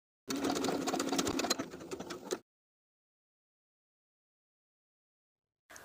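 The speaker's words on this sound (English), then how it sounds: "I'm going to sew for this step with a very concentrated zigzag stitch" A sewing machine sews a dense zigzag stitch with 2.5 width and 1 length on a bralette, a close rapid mechanical whir lasting about two seconds before stopping, then a brief restart at the very end.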